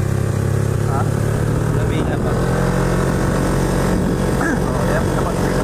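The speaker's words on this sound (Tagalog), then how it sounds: "Gusto ko lang iparinig sa inyo mga kayap kung ano yung tunog ng motor ng pamangkin ko" A nephew's modified racing motorcycle engine drones steadily and loudly throughout, a constant rough mechanical roar with a person speaking briefly over it.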